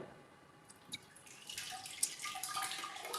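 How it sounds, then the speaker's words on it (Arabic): Two kilos of thick yogurt poured into a cooking pot, first faint drips, then a louder, steadier liquid splatter and gurgle, with no talking. "هلا جبت الطنجرة اللي رح اطبخ فيها، بدي انزل فيها 2 كيلو من اللبن"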